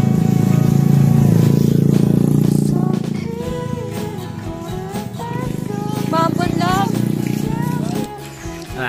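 A motorcycle passes close by on a mountain road, its engine a loud, steady drone for about three seconds before fading, after which people walking nearby talk.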